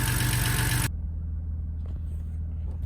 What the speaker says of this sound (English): That is a lot of lifter tick.